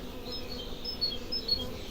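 Honeybees buzz steadily around a hive frame holding freshly stored acacia honey, a close, continuous droning hum with faint individual wingbeats flickering above it, and no talk.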